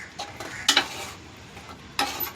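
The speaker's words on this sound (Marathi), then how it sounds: "टाकतोय आमचा स्पेशल बिर्याणी मसाला. पूर्ण हलवून घ्यायचं आहे." A spoon stirring biryani masala into mutton biryani in a metal pot, giving a few short scraping clinks and taps separated by quieter pauses, close and fairly soft.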